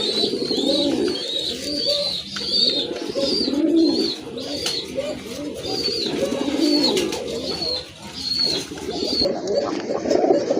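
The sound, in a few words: Chila pigeons cooing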